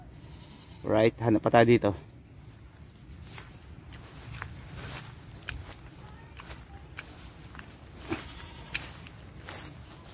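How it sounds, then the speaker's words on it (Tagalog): A goat bleats in a quick loud burst of several cries early on, followed by quieter farmyard rustling, footsteps and someone speaking. "Iniiyak na yung kambing"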